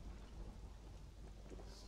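Thunder rumbles low and continuous beneath steady rain hiss in a Conan Exiles thunderstorm, a faint, distant-sounding wash with no voices.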